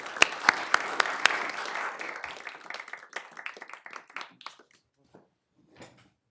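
An audience applauds to welcome a lecturer at a talk on democracy and international law, starting with a few sharp claps, swelling into full clapping, then thinning out to scattered claps and silence.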